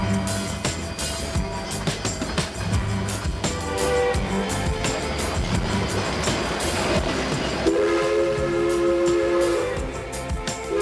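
A Durango & Silverton narrow gauge steam train rolling out, with steady rumbling and clanking close by and a sustained whistle tone sounding near the end.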